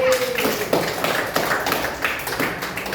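Audience applause at a school teaching-practice session, a steady patter of hand claps filling the whole stretch at moderate loudness with no pauses.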